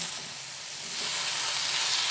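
Green chillies are stirred through a vegetarian vegetable curry in a pan, giving a constant close sizzle and hiss that swells slightly louder midway, with no voices.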